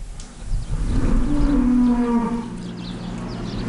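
A single long, loud cow moo, close and drawn out, rising then fading, over faint farmyard background noise.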